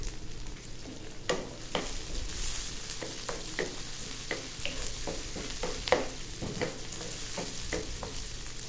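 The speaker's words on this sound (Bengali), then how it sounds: "এই যে দেখুন পেঁয়াজটা ভাজতেছি আমি" Onions fry in fish oil in a pan for a prawn kofta curry, with a steady close sizzle and occasional scraping stirs and clinks throughout and no voices.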